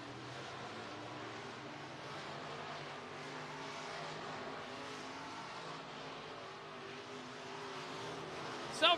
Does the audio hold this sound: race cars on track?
yes